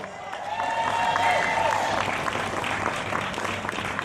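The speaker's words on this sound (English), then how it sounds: "Give her a nice round of applause." A crowd at a live poetry concert applauds with sustained, full clapping and some cheering. It swells early and holds steady, and voices can be heard within the noise.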